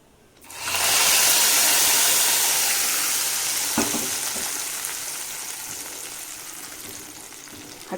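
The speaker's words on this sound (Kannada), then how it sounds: "ಒಗ್ಗರಣೆ ಹಾಕ್ಕೊಂಬಿಡೋಣ." Tempering sizzles hard in hot ghee for a rich rice-milk phirni, a loud burst of frying that starts abruptly and then settles into a steady, slowly fading crackle, close by with no talking.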